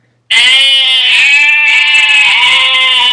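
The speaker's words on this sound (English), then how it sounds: "Sheep." A sheep gives one loud, close, sustained bleat lasting about three seconds, starting abruptly after a brief silence and wavering slightly in pitch throughout.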